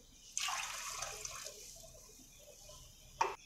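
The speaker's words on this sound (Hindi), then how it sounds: "इसके साथ ही हम ऐड कर देंगे इसमें 1 कप पानी।" Water is poured from a cup into a pan of already boiled full cream milk, producing a brief splashing pour at the start, a trickling tail, then a short second splash, quiet and close in a kitchen.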